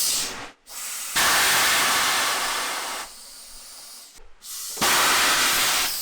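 An air compressor sends loud, sustained blasts of compressed air in repeated bursts, each lasting a few seconds and separated by brief pauses, one burst weaker than the others.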